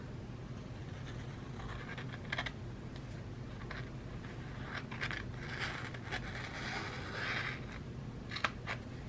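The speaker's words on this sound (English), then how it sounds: "And then I'm going to cut off the excess" Scissors snip off excess paper from a budget planner page in a series of soft, close cuts and rustles over a quiet background.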